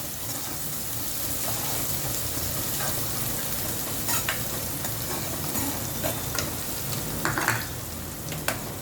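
Sliced onions sautéing in hot oil in a pan while being cooked for an eggplant curry, giving a steady, close sizzle with occasional scrapes and clinks from stirring and no talking.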